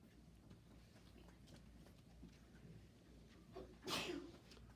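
A single sneeze bursts out near the end of a quiet classroom writing lesson, rising sharply above a low background hum and faint room noise.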